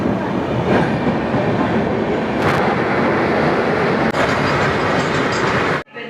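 A train pulls into Balasore railway station with a loud, continuous rumble of rolling wheels and carriages that cuts off abruptly just before the end.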